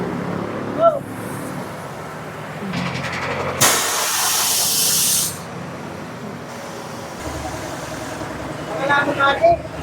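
Air hissing loudly from a flat rear tire on a Honda Click 125 scooter, a strong close spraying rush lasting a couple of seconds amid shop noise, with people talking around it.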